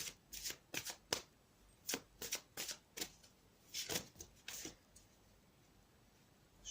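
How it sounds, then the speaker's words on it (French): A deck of cartomancy cards is shuffled and cards are drawn, with quick bursts of crisp riffling and flapping in clustered rhythms and short pauses between. The sound is close but quiet, with no voices. "Je vais tirer une carte pour les énergies générales pour samedi."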